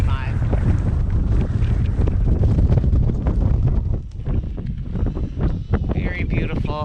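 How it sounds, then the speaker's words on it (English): Strong, gusting wind roars across the microphone on the winter summit of Mount Jefferson, steady and loud for several seconds with brief lulls, while people talk. "I feel like the wind is between 20 and 25."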